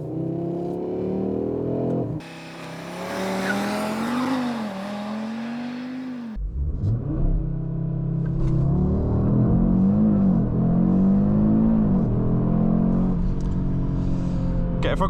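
An Audi RS 3 launches and accelerates hard, its engine note climbing through rising pitch sweeps with gear-change drops, loud and close from inside, under occasional talk.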